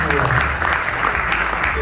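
An audience at a local talent show competition applauds the contestants, a dense steady burst of clapping with a voice audible underneath.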